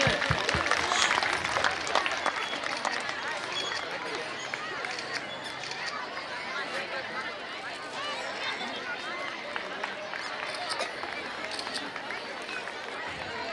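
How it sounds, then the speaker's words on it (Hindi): An audience at a stage event breaks into steady, dense applause that holds evenly throughout, moderately loud, with someone talking over it. "तालियां बजाइए आप लोग, जोरदार तालियों से।"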